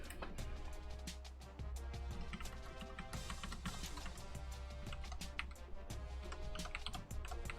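Computer keyboard typing, rapid irregular clicks and clacks of keys pressed in quick bursts, close and fairly crisp, continuing throughout with a short pause near the middle.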